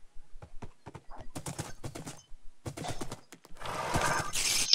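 A horse in a video game neighs and whinnies amid clip-clopping hooves during rain, with a louder, closer whinny near the end; no talking.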